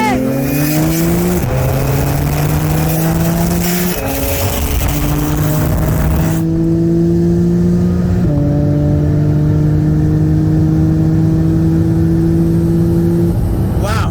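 A 2019 McLaren 720S and a 2017 Porsche 911 Turbo with a ByDesign XR turbo kit run a 50 mph roll race, engines revving hard through several gear shifts and rising loud and close throughout.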